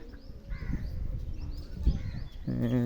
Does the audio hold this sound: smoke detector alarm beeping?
no